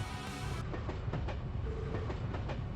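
Steady rumble and rhythmic clickety-clack of a train rolling along rails in the video game Trails to Azure, continuous and fairly close, with no talk over it.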